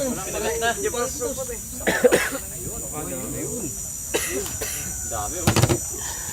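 A few short, harsh coughs break through ongoing Filipino talk while butchering a cobra in the jungle, with brief bursts of throat noise between voices.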